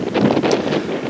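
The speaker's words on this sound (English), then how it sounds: "Wow, windy." Gusty wind buffets the microphone on an East Devon golf course, a loud, rough rumble of breezy noise that surges and eases over about a second, with no voices.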